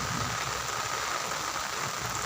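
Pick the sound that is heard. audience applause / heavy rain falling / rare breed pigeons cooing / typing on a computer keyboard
heavy rain falling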